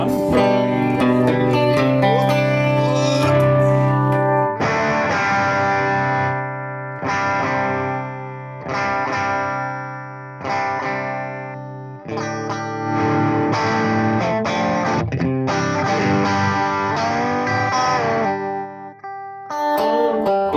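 A Stratocaster electric guitar played through a Tone City effects pedal, loud and continuous distorted chords and notes in bursts with brief breaks, heavy modulation and sustain, no talking.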